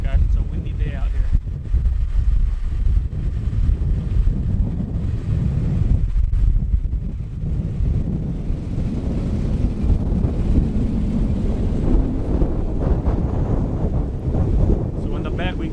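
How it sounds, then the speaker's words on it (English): Strong wind blows outdoors beside a rebuilt Jeep Wrangler, buffeting the microphone with a steady, heavy low rumble throughout. "it's a windy day out here"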